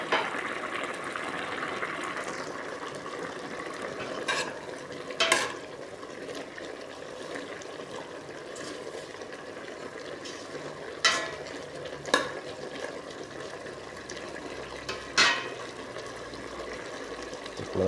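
Squid with carrot and chilli cooks under a lid in a pan, a soft steady sizzle and bubbling with occasional clinks and knocks of the lid or pan, quiet and without talk.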